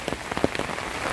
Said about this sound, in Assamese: কিনকিনীয়া বৰষুণটো মানে বহুত দিগদাৰ।